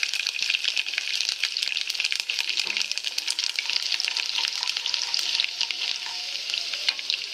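Garlic frying in oil with mustard seeds, urad dal and cumin, a dense, continuous sizzle with rapid crackling pops throughout, close and steady, no talking.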